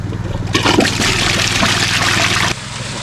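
Water from a stream pours steadily during gold panning in the far north, a loud, close rushing and splashing flow that dominates throughout.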